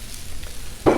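Oil sizzling on a Blackstone griddle, a close, steady frying hiss lasting about a second.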